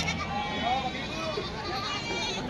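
Goats bleat at the busy Khamgaon goat market in Maharashtra, a wavering cry mixed into steady crowd chatter as people talk nearby.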